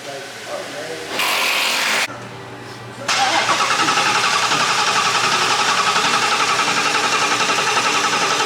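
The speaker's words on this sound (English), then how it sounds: "So right now we are just cranking it, building up some oil pressure in the engine." A Ford Mustang GT350 engine that won't run cranks repeatedly with a rhythmic whirring to build oil pressure, pausing between attempts, then a loud continuous cranking churn carries on.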